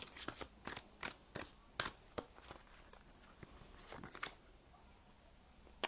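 A deck of cards being shuffled, a run of quick crisp riffling snaps and soft patters that continues for several seconds, close but quiet with no talking.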